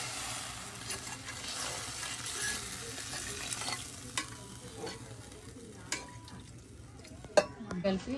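A spoon stirs soya chunk curry in a pan on the stove. Scraping and soft sizzling run under sporadic sharp clinks against the metal, close by, with no voices.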